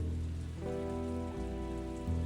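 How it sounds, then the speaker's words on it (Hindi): Steady rain falls without a break through the whole stretch while people wait beside a broken-down car, with a low sustained musical drone running underneath. "अब बारिश रुकने का इंतजार तो करना पड़ेगा ना"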